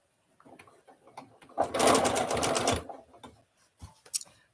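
A sewing machine stitches quilt squares for a miniature Trip Around the World block. A soft lead-in of light clicks rises into a loud, steady whir of rapid stitching lasting about a second, then it stops, leaving a few faint taps.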